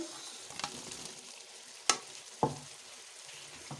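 Potatoes tossed into a pan of softened tomatoes bring a faint sizzle and two sharp clinks of utensil against pan, quiet and close, with no speech.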